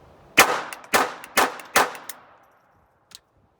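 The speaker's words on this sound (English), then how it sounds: "Put the mag back in." Four sharp metallic clacks in quick succession, then a fainter single click after a pause, as a magazine is seated into an Intratec Tec-22 .22 LR pistol, close and clear with no talking.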